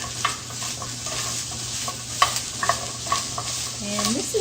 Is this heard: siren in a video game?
no